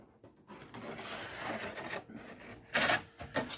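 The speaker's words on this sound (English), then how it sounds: "on my top, I'm going to scribe 1 inch for my duct flange." A scribe scratching lines into sheet metal for a duct transition flange, with close scraping and grating strokes and a sharper burst near the end, no talking.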